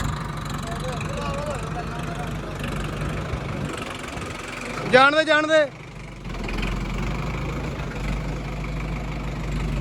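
A tractor engine runs steadily with a low, continuous rumble, and a person briefly speaks over it.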